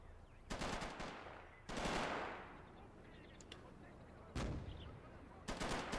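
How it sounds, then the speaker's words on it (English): Gunfire in a video game battle, with a sniper picking off a machine-gun position: several loud bursts of shots, some with long echoing tails, separated by quieter stretches of background battle noise. "PCB now trying to snipe off the MG"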